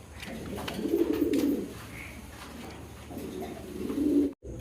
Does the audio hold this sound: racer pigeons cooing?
yes